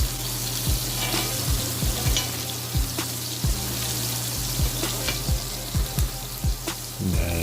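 Shrimp and scallops frying loudly in bacon fat, butter and oil, a steady close sizzle with repeated low thumps and crackles as pieces shift in the pan, no voices.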